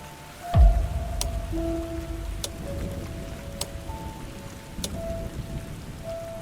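Steady rain falls in a dense, even hiss with scattered drip ticks, a soft thump near the start and a faint low rumble underneath.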